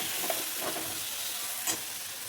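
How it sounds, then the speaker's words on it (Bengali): Lentils being stirred in a pot with salt, turmeric and cumin powder, a soft continuous scraping and faint sizzle with a couple of brief clinks, alone and fairly quiet. "এবার দিয়ে দিচ্ছি এর মধ্যে লবণ, হলুদ, জিরের গুঁড়ো দিয়ে এটাকে ভালো করে একটু নেড়ে চেড়ে নিয়ে"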